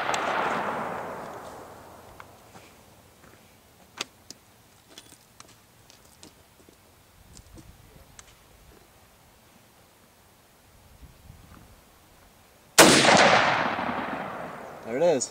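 A hunting rifle fires one loud, sharp shot near the end, its blast decaying over a couple of seconds, after quieter outdoor background with scattered clicks and handling noises.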